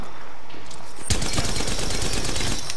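Gunfire from a video game weapon opens after a quiet stretch, then continues as a dense, sustained burst of rapid shots that stays loud to the end.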